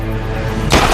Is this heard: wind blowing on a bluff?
no